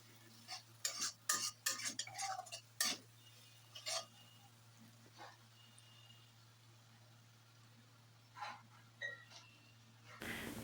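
A spoon scrapes and clinks in a pan while masala with chilli powder fries in oil, giving scattered stirring strokes in bursts over a faint low hum, fairly quiet overall.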